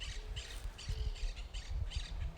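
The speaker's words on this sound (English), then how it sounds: "with the fresh air and the singing of the birds" Birds calling outdoors in fresh, breezy open air, repeated squawking calls in short bursts over a low rumble of wind, fairly faint and distant with no talking.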